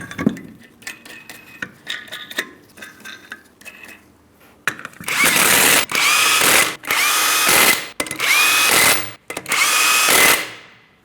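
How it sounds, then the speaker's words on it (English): Power tool on a Ford Transit 250 rear wheel, spinning 21mm lug nuts down in a crisscross pattern after a brake caliper job: several loud, close, evenly spaced bursts follow a stretch of light clinking and handling noise. "continue on to all 5 of your 21mm lug nuts. We're going to bottom them out in a crisscross manner."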